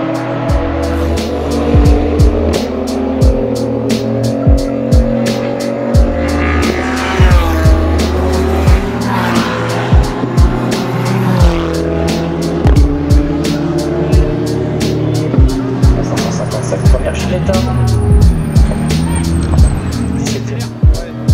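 Race cars at the Castellet circuit roar past in repeated loud bursts, with engines revving hard, sharp gear changes, and tyres squealing now and then, the sound holding at a dense, close level throughout.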